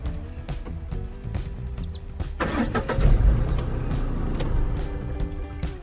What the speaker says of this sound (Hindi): स्टार्ट तो हुई एक बार के, लेकिन ऑफ हो गई वापस